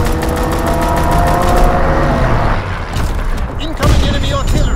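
A fighter plane strafing run in Call of Duty WWII, a dense rattling burst of rapid gunfire with heavy booms and engine roar, loud and close, then fading into scattered impacts.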